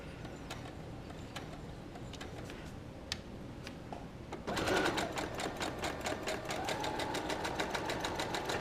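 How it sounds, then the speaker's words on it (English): A sewing machine back stitches a leather bucket tote bag, its needle setting up a fast, steady mechanical clatter that starts abruptly after a few soft ticks and runs on loud and close. "Give me a back stitch here."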